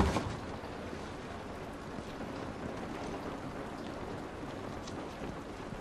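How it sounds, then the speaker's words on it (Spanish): Steady rain falls in The Last of Us video game as a faint, continuous broadband hiss with no distinct drops standing out and no talking. "Esta lluvia no nos va a ayudar."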